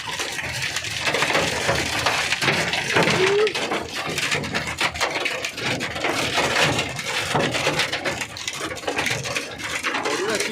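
Large hailstones pelt down outside during an ice storm in Saudi Arabia, making a dense, continuous clatter and rattle of hits on hard surfaces throughout.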